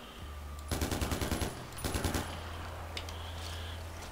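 AK rifle fire in Far Cry 4 comes as two rapid, loud bursts of automatic shots, the first about ten rounds and the second shorter, set over a low steady hum.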